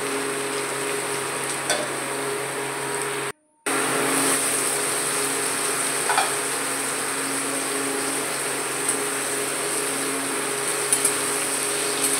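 Beans, potato and eggplant sizzle steadily in a hot pan with coriander leaves, a continuous crackling hiss with occasional stirring clicks and one brief silent cut early on.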